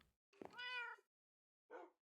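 A cat in the video game Minecraft gives two clear meows, a longer one followed by a short one after a pause, with silence around them.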